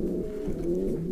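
Pigeons in a breeding loft give a continuous low, throaty cooing, close and steady for a short stretch, with no voices.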